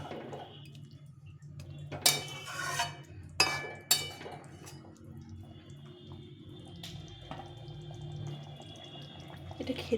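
A pot of rohu fish curry cooked with tender bottle gourd is lifted off the stove, giving a few sharp metallic clanks and clinks over a quiet kitchen background, with no talking.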